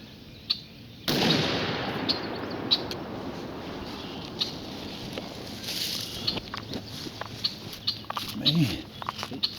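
A single sharp shotgun blast fired at a wild turkey during a hunt, loud and close, followed by a rolling outdoor echo and rustling, with a few faint bird calls and small sounds afterward.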